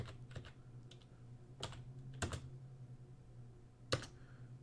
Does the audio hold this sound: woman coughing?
no